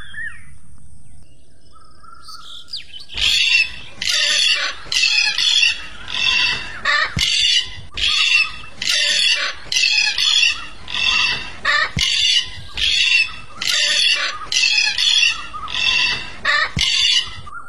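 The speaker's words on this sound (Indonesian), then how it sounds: "Kakak tua jambul kuning itu burung yang super ceria dan hobi pamer jambul kuningnya" A loud, harsh yellow-crested cockatoo screeches repeatedly in a steady rhythm of raucous calls, close by and alone after a brief quiet start.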